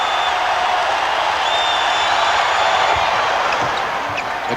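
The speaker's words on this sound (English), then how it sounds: "The crowd's starting to really get on him now" Dense arena crowd noise at a 1995 Bulls vs Magic playoff game, a steady loud roar of jeering fans directed at Michael Jordan, continuous and unbroken throughout.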